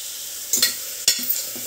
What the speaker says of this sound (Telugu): ఉల్లిపాయ ముక్కలు మాడకుండా తిప్పుకోండి.